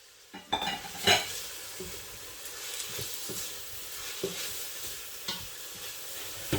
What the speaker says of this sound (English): So while the onion is cooking